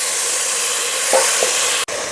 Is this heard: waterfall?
no